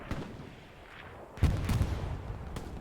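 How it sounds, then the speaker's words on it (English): Artillery shells landing in the World War II shooter Hell Let Loose, fighting around Carentan Causeway: a few scattered, rumbling booms spread over a few seconds, with the heaviest blast in the middle, over a low battlefield din. "It's a little bit of a sprinkle there of artillery."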